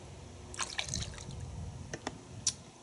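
Thin, watery Turtle Wax Max Power car wash soap poured into a bucket, a soft, quiet liquid gurgle and trickle with a few small drips and splashes, close by and without talk.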